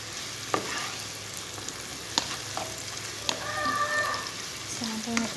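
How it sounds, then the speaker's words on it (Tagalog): Garlic sautés in a hot pan with a moderate, crackling sizzle, while a utensil scrapes and clinks against the metal at intervals, close by. "Yan po, ginisa ko na po yung bawang."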